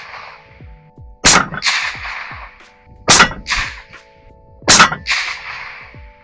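Three loud suppressed rifle shots from a 7mm PRC Bergara HMR14 with a Dead Air Nomad suppressor, firing Federal 175 grain Fusion tipped ammunition. Each sharp crack is evenly spaced and followed by a short outdoor echo.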